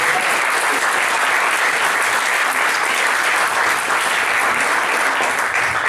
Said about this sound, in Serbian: Aplauz za Nemcu.